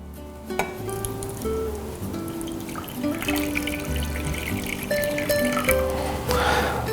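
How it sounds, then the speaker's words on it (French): Coffee is poured into a container, a gentle liquid trickle and splash with a few clinks and handling knocks, close and fairly quiet. "Je vais y verser mon café."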